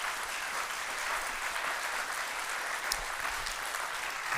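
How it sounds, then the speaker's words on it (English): Audience members clap after a lecture on authoritarianism, a continuous, moderately distant patter of applause that stays fairly even throughout, with no voices standing out. "Please give a warm applause for David."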